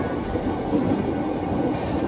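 A KRL commuter train in Jakarta rumbles steadily from inside the carriage, a dense low roar with faint rail noise and no talking.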